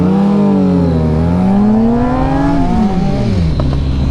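A car called Z accelerates hard in a street race to a white line. Its loud, close engine note climbs smoothly through the revs and then drops away as it eases off.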